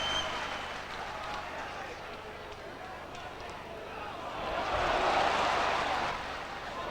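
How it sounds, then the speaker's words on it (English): Football supporters at Easter Road applaud during a 2000 SPL match between Hibernian and Dundee United. A broad crowd noise swells and then fades under a talking voice. "Worthy applause from the Easter Road faithful."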